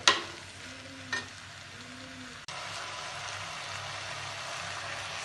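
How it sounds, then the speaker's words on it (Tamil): Ridge gourd sautéing in a pan while making peerkangai paal kadayal, a steady low sizzle that holds after a couple of brief stirring scrapes near the start. "பீக்கங்காய் நல்லா வதகட்டும்."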